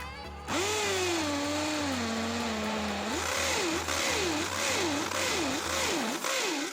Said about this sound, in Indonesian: Di sini saya akan mengebor, ada sebuah paving block di sini.